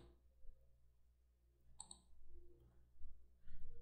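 A single sharp computer mouse click sounds faintly in a quiet room while working in Rhinoceros 3D modeling software.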